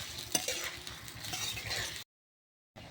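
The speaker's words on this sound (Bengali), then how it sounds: "দিয়ে দেবো কয়েকটা তেজপাতা, দিয়ে পেঁয়াজ রসুনটা ভেজে নেব।" Onion and garlic fry with bay leaves in a pan, a soft sizzle with stirring scrapes and a few clinks, quiet and close, then a brief gap of silence.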